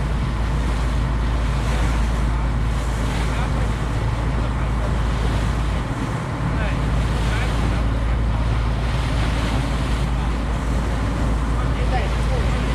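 A whale-watching boat crosses the open sea off a rocky coast, with a steady, loud wash of wind and surf roaring continuously, engine rumble underneath and voices faintly mixed in.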